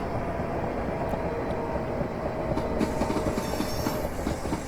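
A class 375 electric train in Train Simulator Classic rolls along the Medway Valley line with a steady low rumble, faint clicking and a sustained hum, unbroken throughout with no talk.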